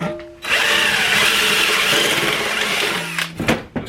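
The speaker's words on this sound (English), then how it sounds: "we're actually going to have to drill a fair sized hole in it first" A power drill boring a fair-sized hole in a metal piece, starting abruptly with a loud, sustained high whine that holds steady for about three seconds, then drops in pitch and cuts out with a few short bursts at the end.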